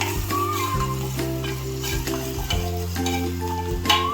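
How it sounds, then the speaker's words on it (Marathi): Coriander powder, cumin powder and salt fry in hot oil for a brinjal bhaji, giving a steady close sizzle with tonal musical notes running underneath throughout. "1 टीस्पून धणे पावडर, अर्धा टीस्पून जिरा पावडर आणि 1 चमचाभर मीठ, हे सगळं मी टाकून घेते यात. ते आपण थोडंसं फ्राय करून घेऊया."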